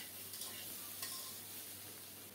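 Chopped ridge gourd tipped into a pan of browned, frying potatoes, giving a faint, steady sizzle with a few soft scrapes of stirring, no voices.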